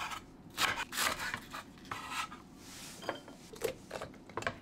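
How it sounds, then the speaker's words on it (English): Knife cutting through leek on a board for kimchi fried rice, a series of crisp separate chops with short pauses between them, close and fairly quiet, no talking. "let's chop up the leek, which releases all sorts of good stuff when you cut it"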